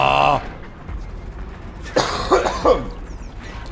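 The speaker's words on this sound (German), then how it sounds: "Jetzt geht's wieder los hier mit dem Husten." Coughing during a live gaming stream, a harsh close cough at the start and a burst of throaty coughs and throat clearing later, loud against a murmuring background.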